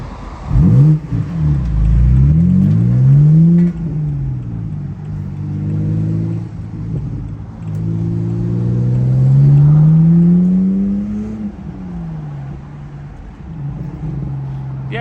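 A BMW 125i drives a dual carriageway at night, heard from inside as the engine note climbs and falls through accelerations and gear changes, loud and continuous with no talking.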